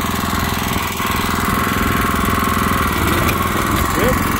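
A Barreto 1320 all-hydraulic tiller running with its tines engaged, giving a loud, steady mechanical chugging and rattling engine drone near the listener, with someone speaking over it.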